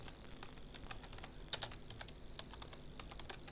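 Rapid keystrokes on a computer keyboard as text goes into a notepad, a steady run of light clicks with one sharper tap midway, close and fairly quiet with no voices.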